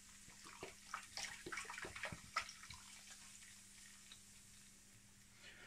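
About 1.5 liters of mineral water is poured over seven pieces of meat to marinate Armenian chalagach. Faint, close splashing and gurgling come in short bursts, then trail off into quiet trickles.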